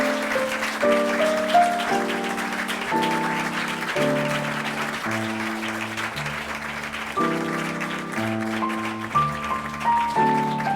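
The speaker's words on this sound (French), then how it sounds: "Je voudrais dire bravo à tous les élèves parce qu'ils ont été, on peut les applaudir" Steady applause from an audience for piano students, a dense patter of clapping that runs under sustained piano chords playing throughout.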